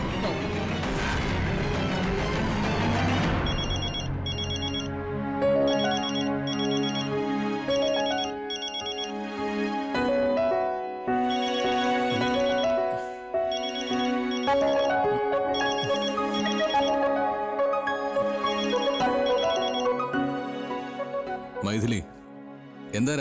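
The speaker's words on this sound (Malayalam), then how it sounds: "ഓ നീരജ്, ഫോൺ എടുക്കാൻ എന്താ ഇത്ര താമസം?" A phone ringtone plays a loud, repeating electronic melody for over twenty seconds, with a brief burst of sound before it starts.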